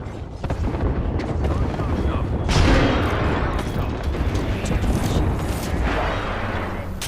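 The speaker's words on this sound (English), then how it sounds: "Frag thrown." A frag grenade goes off in a shooter game, a dense rumbling blast that swells around the midpoint and rolls on loudly amid continuous battle noise, with voices talking underneath.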